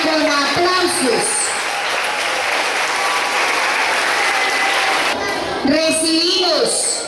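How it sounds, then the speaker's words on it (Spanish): Audience applause at a school civic assembly for a preschool girl, a continuous loud rush of clapping that swells through the middle with announcer speech at the beginning and end. "Acompañémosla con aplausos."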